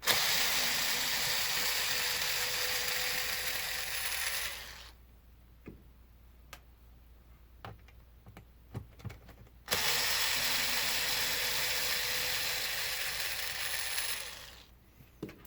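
A power tool removes screws set in plastic on an Arrma Felony 6S RC car, giving two steady whirring runs of several seconds each, separated by a quiet stretch with faint clicks and taps.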